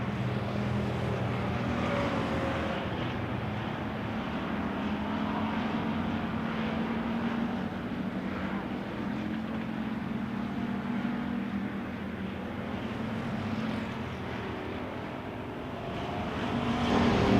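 Pure stock cars race on a dirt oval track at a July 4th event, several engines droning and roaring together at a distance, a continuous layered rumble that swells slightly near the end.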